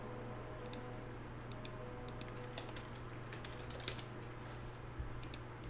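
Computer keyboard keys tapped in short irregular bursts during play of Might and Magic 8, faint clicks over a steady low hum with no voices.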